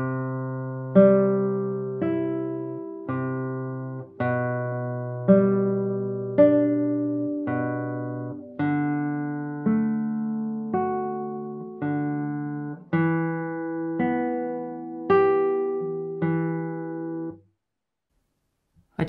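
Classical guitar playing arpeggios from a Carulli piece, clean plucked notes in a steady repeating pattern, close and moderately loud, ringing to a stop near the end.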